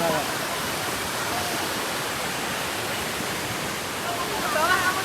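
River on a trekking trail in Baduy, a steady broadband rush of flowing water, loud and continuous, with faint voices in the background.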